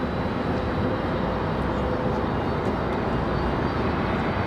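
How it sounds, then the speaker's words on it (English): A Frontier airliner departing Raleigh-Durham International Airport produces a steady, loud broadband jet roar that holds without a break, with no voices. "Frontier off to Denver, Frontier 2225, getting ready for departure"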